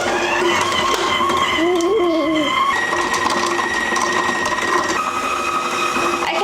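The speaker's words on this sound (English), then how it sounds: "We've got our butter and we've got to pop it into the KitchenAid and cream it" A KitchenAid stand mixer creams butter with a steady, close mechanical whir and hum that runs throughout, with tonal motor whine and faint rattling, and no clear speech over it.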